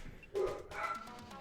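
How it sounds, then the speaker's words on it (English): Dogs bark and yip nearby indoors in a short, excited burst of two or three loud yelps, with a faint room hum behind. "The dogs are freaking out."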